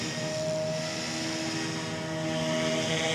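A Blade InFusion 210 RC helicopter in flight gives a steady, continuous rotor and motor whine with a constant pitch, close and loud throughout with no talking.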